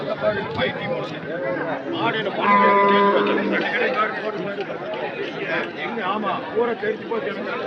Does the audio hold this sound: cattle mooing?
yes